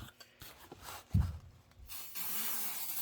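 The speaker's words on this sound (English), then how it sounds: "I do spray these pretty well because I want them to stick on the outsides" Spray adhesive hisses steadily from a can onto fabric quilt blocks during table topper finishing, a continuous close spray filling the last second of the clip after quieter rubbing and handling sounds.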